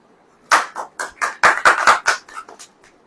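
A congregation at a Hindi church service claps in a short burst of about ten sharp, separated claps, fairly close and loud, fading at the end without talk.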